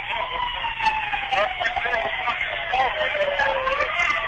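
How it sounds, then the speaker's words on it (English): Wailing sirens rise and fall continuously in the distance at a football game, a steady layered whine with faint crowd noise beneath. "And now they got sirens going off."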